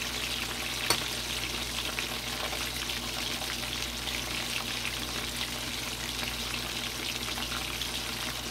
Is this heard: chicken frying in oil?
yes